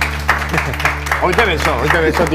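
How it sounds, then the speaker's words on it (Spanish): Audience applause after a card magic trick with kings of hearts, heard as modest, scattered clapping under steady nearby talk. "Me parece flojito el aplauso"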